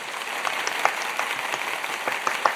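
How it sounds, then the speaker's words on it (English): An applause sound effect of steady crowd clapping runs evenly throughout at moderate volume, a dense continuous patter with occasional sharper claps standing out and no talking over it. "We need a clap."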